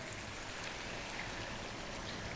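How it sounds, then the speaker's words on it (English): Water pours into a goat curry with tomatoes as a brief, steady splashing rush, close and even throughout. "To that we're going to add water."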